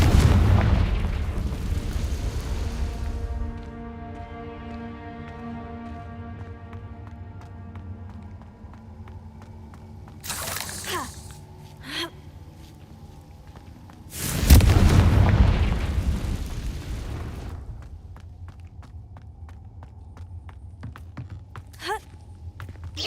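A Confringo spell explosion in a Harry Potter video game, heard as loud booming blasts, one at the start and another midway, each with a rumbling tail, with sharp bursts and quieter background sounds in between.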